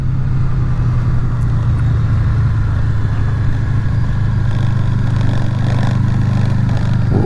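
A Honda VFR800 at riding speed gives a loud, steady engine and wind roar, with a faint clattery rattle from the windscreen mixed into the continuous drone and no talk over it.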